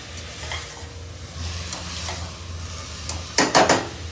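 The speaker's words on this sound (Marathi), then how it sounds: "गाजर पण आपण मस्त पैकी हलवून घेऊ" Carrots for momos are stirred in a hot pan with a soft, steady sizzle and scraping, ending in a few bright, close clinks of the spoon against the pan.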